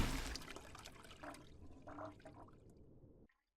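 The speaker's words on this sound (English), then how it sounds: "you can use that to flush somebody down a toilet" A toilet flushes in the video game Space Station 14, a close rushing, gurgling swirl of water that fades over a few seconds and cuts off abruptly, with no talking.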